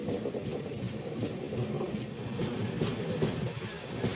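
Coromandel Express rolling into Gudur Junction, a steady rumble of wheels and carriages with faint rhythmic clicks, continuous and fairly close throughout.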